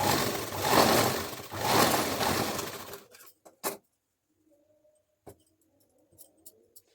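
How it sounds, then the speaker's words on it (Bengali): Sewing machine stitching a blouse fabric, a close, rhythmic mechanical whir in two bursts over about three seconds, then stopping into near silence broken by sparse taps and handling clicks. "এভাবে করে সেলাই করতে হবে, দেখতেই পাচ্ছ।"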